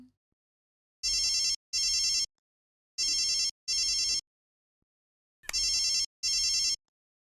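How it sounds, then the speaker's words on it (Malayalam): A telephone rings for an incoming call with three clear pairs of bright electronic trills separated by silent gaps. "എനിക്കൊരു ഫോൺ കോൾ വന്നു"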